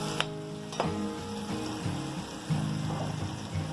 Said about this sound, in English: the onions and garlic and pimento and hot peppers have fried up